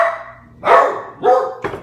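Dogs bark three times in a kitchen during a cooking session, each bark loud and close with short pauses between, ringing out alone.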